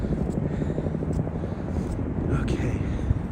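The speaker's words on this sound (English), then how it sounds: "we've got some helicopters out here. We always got helicopters out here" Helicopters flying over New York City, a steady low rotor drone filling the street noise throughout, with a few brief higher tones above it.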